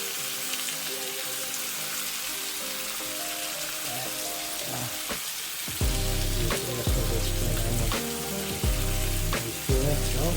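Korean galbi short ribs sizzle loudly on a grill, a dense steady frying hiss with sharper crackles and a few thumps as the ribs are flipped, no voices.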